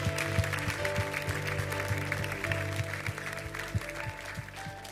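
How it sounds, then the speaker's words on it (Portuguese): Church congregation applauding, a moderate, uneven patter of clapping over a sustained organ-like musical tone. "você pode aplaudir o Senhor Jesus?"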